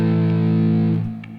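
Distorted electric guitar ringing out one sustained, loud, heavily overdriven chord that fades away after about a second, with no voice over it.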